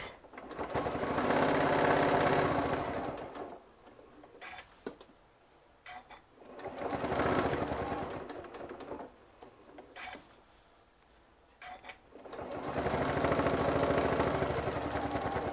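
A sewing machine top stitching fabric for an airplane caddy, three loud sustained bursts of rapid close stitching separated by quieter pauses where the fabric is turned, with no talking.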